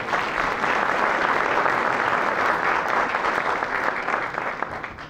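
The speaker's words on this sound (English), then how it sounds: "Give him a round of applause" A community meeting audience gives the mayor a round of applause, loud continuous clapping from a room of people lasting about five seconds and easing slightly at the end, with no voices over it.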